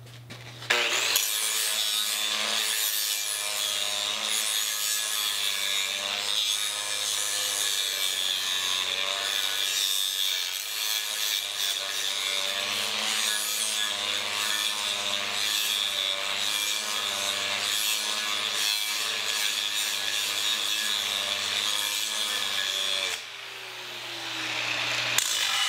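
Hand bevel being ground flat on a hard disc, a steady continuous abrasive grinding with a droning motor hum that runs loud and even for most of the time before dropping off near the end.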